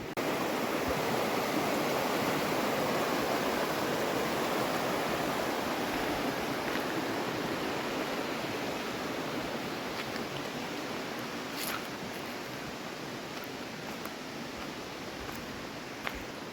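The Pemigewasset River rushes past a stealth campsite, a steady, broad roar of flowing water that stays close and constant throughout, with a few faint clicks near the end.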